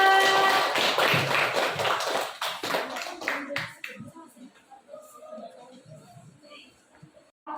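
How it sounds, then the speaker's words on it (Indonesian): A classroom group claps for a student team after their presentation, a burst of loud, quick, scattered claps close by that thins out over a few seconds into a few soft taps and rustles. "Berikan aplaus untuk kelompok 4."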